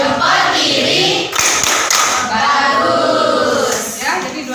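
Students clapping together in a classroom in a rhythmic thumbs-up clap, loud and close, with children's voices mixed in throughout.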